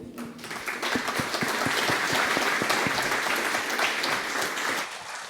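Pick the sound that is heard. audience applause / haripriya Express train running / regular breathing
audience applause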